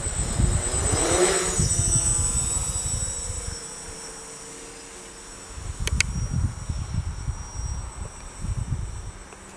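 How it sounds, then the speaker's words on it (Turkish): A homemade quadcopter drone in flight, its propellers spinning with a steady loud buzzing whine that swells and fades as it moves, close by with no talk. "Bugün sizlerle multikopterimizi yapacağız. Şimdi isterseniz uçuralım."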